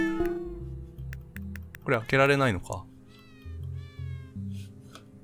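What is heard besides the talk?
cat meowing in the video game Hidden Paws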